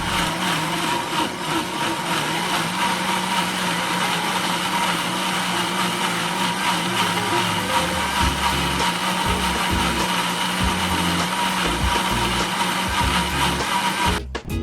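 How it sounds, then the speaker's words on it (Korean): A blender whirs loudly and continuously while grinding shrimp, yam, egg yolks and mirin for an egg castella, with a steady motor whine and churning rattle that cuts off abruptly at the end. "믹서기에 넣고 신나게 갈아줍니다."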